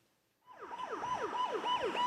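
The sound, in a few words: 119 ambulance siren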